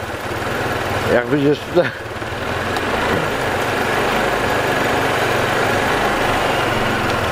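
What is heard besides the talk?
cross scooter engine with Chinese module running, held on throttle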